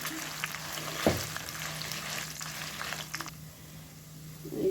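Ingredients for a curry leaf pickle fry in a pan with a quiet, steady sizzle and a sharp knock of a utensil early on, the frying fading slightly toward the end.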